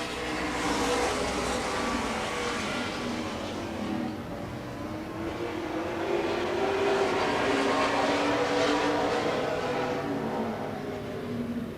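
Late model race cars at Grundy County Speedway, a continuous loud roar of engines sweeping past with rising and falling pitch at a distance, filling the whole span without pause.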